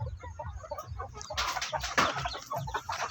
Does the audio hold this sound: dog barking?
no